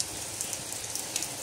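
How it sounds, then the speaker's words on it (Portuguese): Light rain begins falling in São Vicente do Seridó in Brazil's dry northeastern interior, a soft, steady hiss of drops with a few faint patters, close and alone without voices. "Começou a chover"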